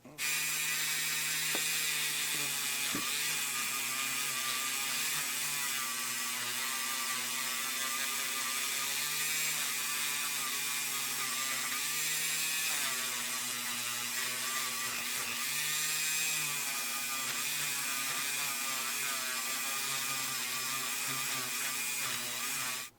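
A small rotary tool buzzes continuously at high pitch, its whine wavering slightly as a wire wheel scrubs and polishes a vintage Hot Wheels Baja Beetle toy car.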